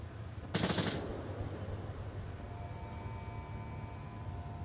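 A burst of machine gun fire from a drum-fed weapon in the VR shooter Onward, a short sharp volley near the start followed by a lower rumbling tail and distant background noise.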